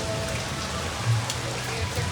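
Heavy rain pours down steadily on surfaces near a flooded home, a dense, even hiss of drops that carries on unbroken with no voices.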